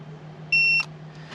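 Single short electronic beep from a 4WD caravan tyre pressure sensor unit as two buttons are held, clear and close over a quiet steady hum.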